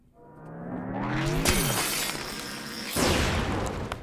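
JRPG-style ice spell effect: a rising crystalline sweep builds into a loud glassy shatter, followed by a second bright crash of breaking glass and a ringing, scattering tail.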